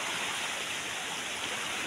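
Steady, dense rush of floodwater after a typhoon, broadband and continuous like a fast-flowing torrent, close and unbroken throughout.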